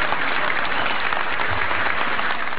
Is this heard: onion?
no